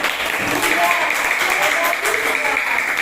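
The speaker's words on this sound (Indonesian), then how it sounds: "Ya, sudah sesuai ya, semuanya tepuk tangan." A classroom group of students claps together in a lively burst of applause, with voices mixed in among the clapping.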